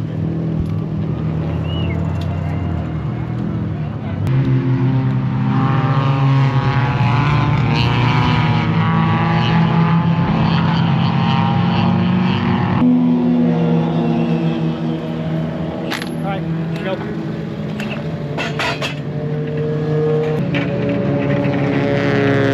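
A race car whines steadily past at speed, a continuous high-pitched electric drive tone rising and falling against a constant roar of wind and road noise.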